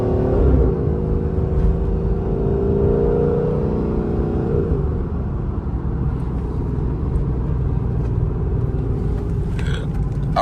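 Chrysler 300 with a 5.7L V8 and BBK headers, driving and revving, gives a loud, steady exhaust drone that swells and falls in pitch as it accelerates, close and continuous throughout, with no talking.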